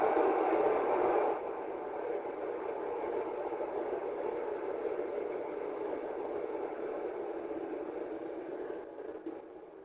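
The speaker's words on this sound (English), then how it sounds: "if anyone has ever been in Chicago and seen the L, it kind of sounds like this." A Chicago L elevated train rumbles past as a broad, muffled roar that fades gradually, heard faintly and band-limited like a recording played back, with no voices.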